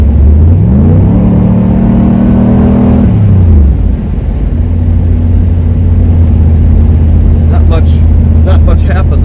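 A 305 V8 Camaro engine under throttle: the drone climbs in pitch as the engine revs up, drops back, then settles into a steady loud hum, heard from close by.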